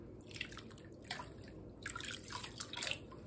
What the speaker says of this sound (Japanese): 最後きれいな残ったお湯でちょっとかけ湯してあげて